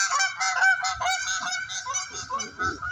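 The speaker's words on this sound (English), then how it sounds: "Take a gander at those geese, y'all." Geese by a lake honk repeatedly in a noisy, overlapping chorus of nasal calls, fairly close and continuous.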